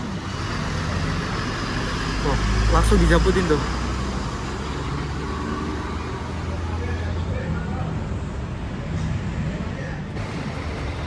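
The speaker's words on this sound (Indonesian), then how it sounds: "bis yang kita naiki ini tuh pakai bodi Max HDD dengan sasis Mercy" A Mercedes-chassis bus with a Max HDD body rumbles steadily from inside the cabin on a trip out of Surabaya, a low engine drone under road noise while a person talks over it.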